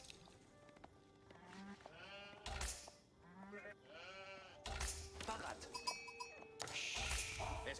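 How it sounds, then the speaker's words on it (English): Sheep bleat repeatedly in Age of Empires IV, several distinct wavering calls rising over game ambience and interface sounds, with short clicks and chimes in between. "We're just going to get the 2 sheep close to our town center."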